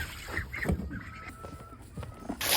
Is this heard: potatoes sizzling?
no